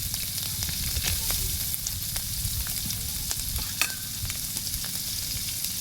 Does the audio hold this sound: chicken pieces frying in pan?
yes